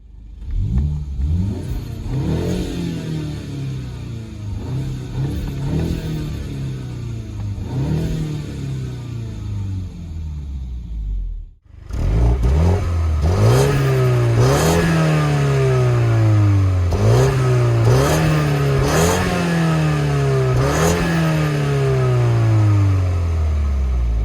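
BMW 128ti engine accelerating and revving hard through repeated gear changes, each rising pull followed by a shift, with a brief drop near the middle before the engine pulls loud and steady again, close and with no talking.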